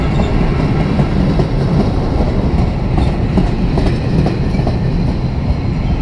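A train rolls steadily through Cardiff Central station, a loud, continuous rumble with faint clickety-clack of wheels on rails close by, no talk over it.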